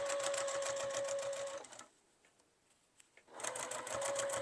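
A sewing machine back stitches the seam of a fabric bowl cozy, running steadily and loudly, stopping for about a second and a half of near silence, then running again.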